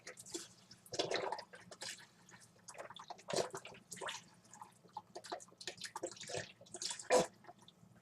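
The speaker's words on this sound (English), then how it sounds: "just dump the whole thing in there" Chicken broth is dumped from a carton into a pot of two cups of quinoa, making uneven splashing and gurgling bursts of liquid with short pauses between them, close and moderately soft, with a low hum underneath.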